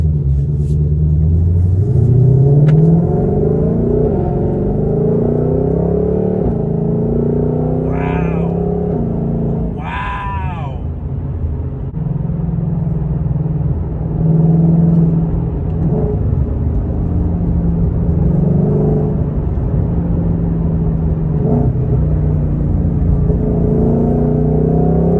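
Cabin sound of a 2021 Shelby GT500 with a 7-speed dual clutch, a loud, steady low engine rumble that rises and falls as it accelerates and shifts, with people talking over it.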